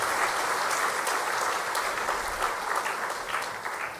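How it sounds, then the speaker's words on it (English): An audience at a University of Peradeniya engineering faculty welcome event applauds a performance with steady, dense, close clapping that holds at the same level for several seconds without any voices. "I would like to give them another round of applause for their wonderful performance"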